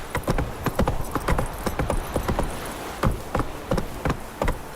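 Roach the horse gallops in the video game The Witcher 3: Wild Hunt, a steady, loud, close run of rapid hoof clip-clops with no pause, heard alone with no voices.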